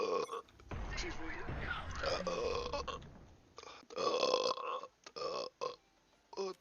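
A man on a live stream lets out long, rumbling burps at close range, with loud stretches broken by short pauses and some talk mixed in.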